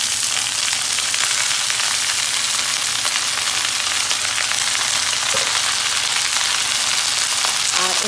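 Red amaranth greens (lal shak) fry in a pan with a loud, dense, steady sizzle that runs without a break, and a few soft stirring scrapes rise above it.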